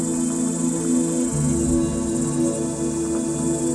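Cicadas sing in a continuous, dense buzzing drone that holds steady and fills the air without breaks or voices.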